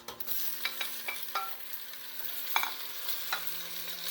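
Onions and tomatoes sizzle softly in a pan for lamb do pyaza, with a steady low frying hiss punctuated by a series of sharp spatula clicks and scrapes as they are stirred.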